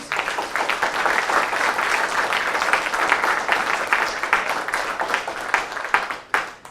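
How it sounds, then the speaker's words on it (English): A conference audience at the NativeScript Dev Day panel applauds the speakers, with dense, sustained clapping from many hands that holds steady and tapers off in the last second. "So a round of applause for all the speakers"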